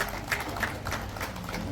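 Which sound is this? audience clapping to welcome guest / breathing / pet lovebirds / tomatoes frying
audience clapping to welcome guest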